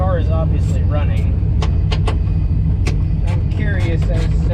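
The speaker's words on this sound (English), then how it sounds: "The car is obviously running." Close by, the engine of a ten-year-old car with a leaky surge tank lid runs continuously with a deep, even rumble, while scattered clicks and a murmuring voice sit faintly on top.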